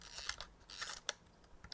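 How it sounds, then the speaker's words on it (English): A Hasselblad 503CW film winder advances the film in a few quiet, quick ratcheting clicks and scrapes, close and faint, with no voices. "just like that to wind the film."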